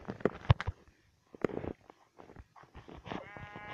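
A sheep in Minecraft bleats in short bursts among scattered game sounds, ending with a wavering, drawn-out bleat. The sounds are fairly quiet and close, with no talking.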